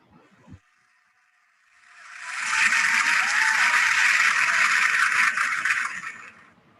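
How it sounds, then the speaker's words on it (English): Clapping for a prize winner at an online department magazine release event swells in after a short silence, holds as a dense, hissy burst for about four seconds, then fades out, with no talking over it. "Can we please have a huge round of applause for Divyanshi?"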